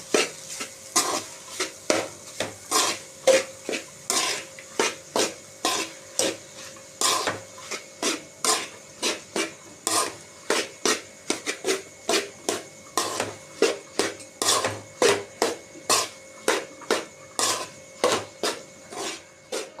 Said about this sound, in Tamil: கொத்தி விட்டு கிளறணும்.